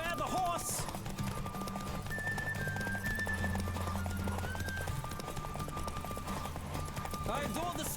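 A horse gallops in The Witcher 3, hooves clip-clopping in a steady rhythm under game music while someone talks over it.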